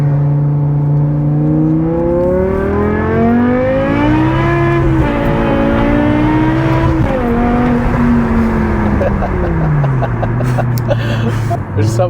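BMW M6 with a V10 engine and F1-style exhaust accelerating hard, a loud, continuous high-pitched wail that climbs steadily through the gears with brief dips at shifts, close and filling the cabin.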